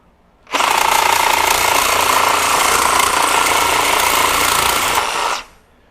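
A Makita 40V XGT second-generation reciprocating saw cuts through a half-inch steel piece, a loud, steady, buzzing rattle that starts abruptly, holds for about five seconds and stops sharply, close up with no speech.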